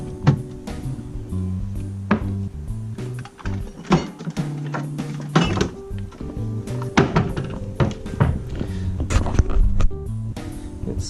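A wooden desk drawer in a hotel room slides open and shut with several close thunks and knocks, scattered irregularly over steady background music.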